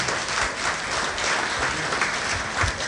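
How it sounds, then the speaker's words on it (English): An audience at a KNUST content creation masterclass for faculty applauding steadily, a dense wash of many hands clapping at once, filling the whole stretch without any voices. "You want to clap for yourself for this."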